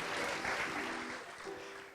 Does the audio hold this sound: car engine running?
no